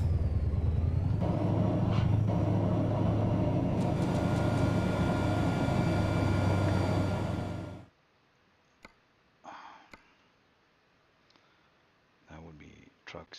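A Scania 10x4 730 V8 truck pulling an Ekeri tandem trailer in Euro Truck Simulator drones loudly from the cab interior for about eight seconds. Then the engine cuts out, leaving near silence broken by a few short clicks and thumps.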